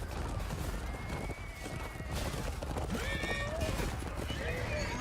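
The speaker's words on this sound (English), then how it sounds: "Oh, they're killing my horse." Horse in the video game Chivalry 2 whinnying in several high calls while hooves clip-clop beneath, set amid battle noise and overlapping talk from players.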